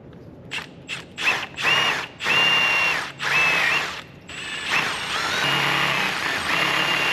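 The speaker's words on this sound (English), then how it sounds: "what we're gonna do is put self-tapping screws in it and try and pry on those" Power drill driving self-tapping screws into the rear main seal of an International 1086 tractor: a series of short whirring bursts that grow longer, with ratcheting, whining pitch changes, close and loud, no talk.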